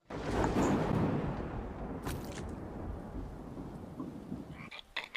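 Cartoon frog croaking in an animated scary school episode, a steady low rasping croak running continuously at moderate distance, with a few brief sharper noises near the end.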